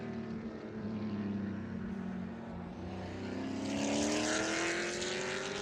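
A Porsche GT3 Cup race car rolls slowly around a circuit, its engine drone steady and fairly loud, then swelling with a rising pitch as it nears, with no voices over it.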